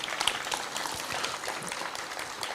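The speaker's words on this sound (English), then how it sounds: "I think they deserve a round of applause" Round of applause from an audience at a formal project launch event, continuous scattered clapping at moderate-to-low level, a bit distant, with faint murmur underneath.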